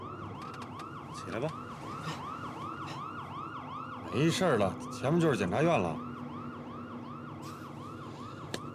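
A police car siren wails in a steady, repeating rise-and-fall cycle through the whole stretch, fairly loud and continuous, with people talking over it for a while in the middle.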